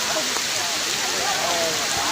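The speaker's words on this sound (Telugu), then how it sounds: "కెమెరా తుడిచినా కూడా వర్షం పడుతూనే ఉంది." Heavy rain pours at the Bhairavakona waterfalls, a dense, steady hiss of drops and rushing water filling the whole clip at close range, with no pauses.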